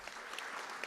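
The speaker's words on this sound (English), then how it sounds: "thank you for that round of applause" Brief burst of audience applause at a Covid-19 meeting led by the president, steady crackling clapping throughout, no speech over it.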